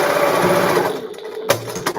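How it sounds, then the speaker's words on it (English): A sewing machine stitching the straps of a patchwork tote bag made from upcycled embroideries, a close, rapid mechanical whir that runs for about a second, then stops with a few clicks and knocks. "just do 2 lines of stitching, and then I'm going to do another extra line when I'm stitching the bag together"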